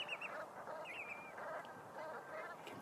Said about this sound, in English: I'm surrounded by birds everywhere.